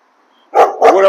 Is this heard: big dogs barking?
yes